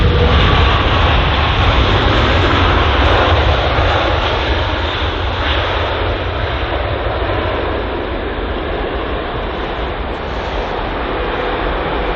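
A departing airliner at London Heathrow roars steadily at a distance, a broad, loud, continuous engine rumble with a deep low end that holds for about twelve seconds and eases only slightly toward the end.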